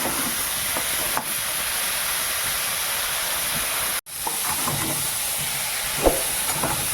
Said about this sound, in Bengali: হলুদ দিয়ে বেগুনটাকে একটুখানি ভেজে নেবো হালকা করে